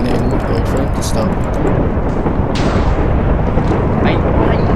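Rolling thunder from lightning strikes in a Minecraft animation, a dense, continuous rumble with a sharper crack near the middle, loud and steady throughout the clip.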